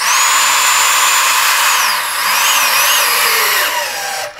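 A Norbar EBT electric torque multiplier runs steadily with a loud, continuous whining motor tone that holds, then shifts pitch and winds down as the tool reaches stall.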